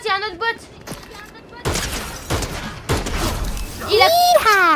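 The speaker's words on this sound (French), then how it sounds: "Il y a qui nous tire dessus là?" Bursts of gunfire and sharp impacts crack out in a Fortnite match, loud and close in separate clusters, mixed with game sound effects and rising electronic tones.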